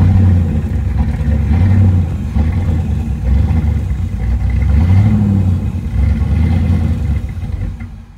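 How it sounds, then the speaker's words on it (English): A 1982 Pontiac Trans Am V8 that barely idles runs loud and close with a rough, uneven rumble, its revs surging and sagging repeatedly before fading at the end. "Backfire."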